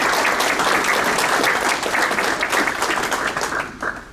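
Sustained applause from a school awards-ceremony audience honoring a staff member, dense steady clapping filling the room for about four seconds before thinning slightly at the end.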